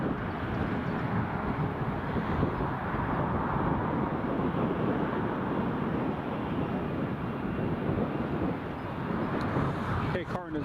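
A Loganair aircraft taxiing at Newcastle Airport, heard as a steady, broad engine roar that stays near and fairly loud throughout, roughened by wind buffeting the microphone.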